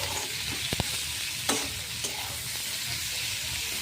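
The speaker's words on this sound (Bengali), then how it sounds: "ভালো করে এই পেঁয়াজগুলো ভেজে নেব," Onions and green chillies fry in a pan with a dense, constant sizzle and a few scraping stir strokes, close and steady, no voices.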